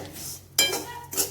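A spoon stirs salt into crispy poha chivda in a pan over low heat, giving two close, short scraping and clinking strokes against the metal.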